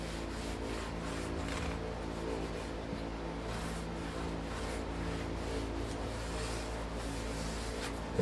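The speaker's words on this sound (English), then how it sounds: "Get my dry rag. Take off the excess stain." Dry rag rubbed over a round wooden tray to wipe off excess wood stain, a steady soft rubbing and scuffing that carries on evenly throughout at close range.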